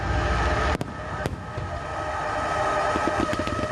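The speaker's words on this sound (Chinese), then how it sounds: "不管是放射型的烟火，还是开信型的烟火" Fireworks burst at the Penghu fireworks festival in Taiwan: several sharp, fairly distant bangs spaced irregularly over a constant crowd and outdoor rumble.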